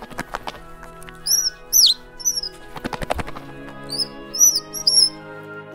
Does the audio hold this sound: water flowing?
no